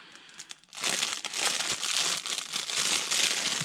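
A plastic bag crinkles loudly and continuously up close as a 1/6 scale action figure, Flagset Snowfield Queen Shirley, is taken out, a steady rustling after a brief quieter start.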